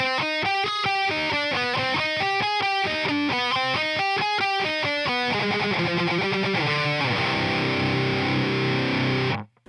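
A heavily distorted electric guitar plays a fast, choppy metalcore riff, with tightly muted rhythmic stabs that open into a sustained ringing passage before cutting off.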